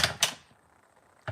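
A rubber stamp thumps twice in quick succession onto grid paper, two short soft taps close by, followed by a quiet pause and another faint tap at the end.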